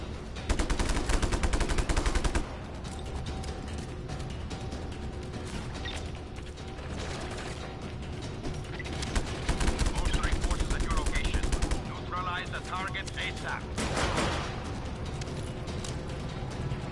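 Gunfire in Just Cause 3 at an underground military base: loud bursts of rapid machine-gun fire and single shots crackle throughout, mixed with game effects and a voice talking.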